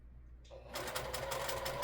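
A sewing machine chain piecing quilt blocks starts after a brief mechanical click and then runs in a steady, fast stitching whir, close and fairly quiet.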